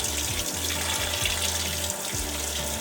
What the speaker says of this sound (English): means that the washer is filling the basket with water